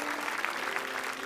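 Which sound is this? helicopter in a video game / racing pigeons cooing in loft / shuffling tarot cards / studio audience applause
studio audience applause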